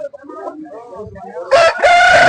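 Rooster at a poultry sale crows loudly and close at the end, a bright strained call following softer clucking and low hen sounds, with market noise around.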